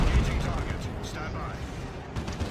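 Heavy gunfire and explosive booms from the Dawn of War 2 video game, a dense low rumbling barrage of shots, loud and continuous throughout with no clear gaps.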